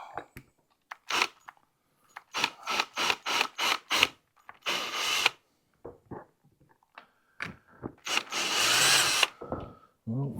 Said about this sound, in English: I don't think for sure I'm going to be able to drill because it's just not cooperating